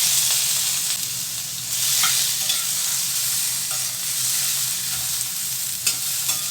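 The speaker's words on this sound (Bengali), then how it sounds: "এই সমস্ত সবজিগুলোকে ভালো করে ফ্রাই করে নিতে হবে।" Mixed vegetables with tomato fry loudly in a pan, a dense continuous sizzle close up, while a spatula scrapes and stirs them with occasional sharper clicks.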